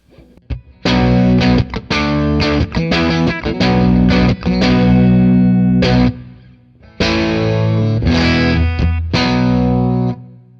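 Overdriven electric guitar through an amp on its clean channel, chords played in bursts with brief pauses, loud and sustained with a gritty edge.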